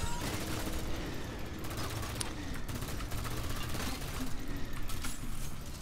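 Chain gun fire in the LawBreakers video game, a dense continuous rattle of rapid shots running throughout at moderate level, with speech in the mix.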